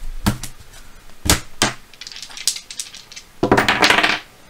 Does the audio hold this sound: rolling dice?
yes